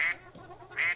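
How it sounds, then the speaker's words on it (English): A duck quacks twice, nasal honking calls at the start and end with a quieter murmur between, close and fairly loud. "It's quacking, actually."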